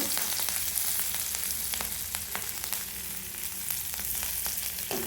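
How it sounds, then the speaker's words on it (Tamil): Garlic cloves and chopped curry leaves fry in hot oil for avarakkai thokku, producing a loud, dense, continuous sizzle with sharp pops and crackles throughout. "கருவேப்பிலையை நல்லா வதக்கிக்கோங்க."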